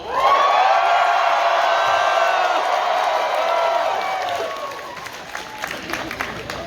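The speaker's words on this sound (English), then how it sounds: "you're all going to scream as loud as you can" A fan convention panel audience screams and cheers on cue, a loud sustained roar of many voices with clapping that fades slightly toward the end.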